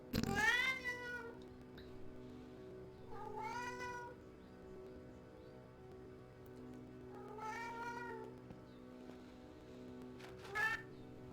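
A cat meows four times with pauses between calls, fairly close, over a faint steady background hum, in the video game Alfred Hitchcock's Vertigo.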